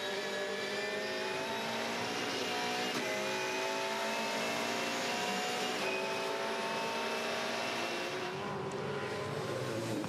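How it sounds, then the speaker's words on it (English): A Volvo V8 Supercar racing engine screaming at high revs, heard onboard from inside the cockpit during a race, pitch rising and dipping through gear changes, loud and continuous throughout. "In car now with Scott McLaughlin in the Volvo. Let's listen here."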